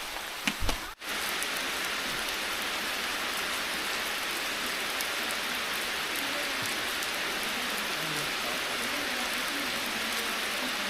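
Steady rain falls over a village, a dense, even hiss that runs the whole time with a brief thump near the start and no talking.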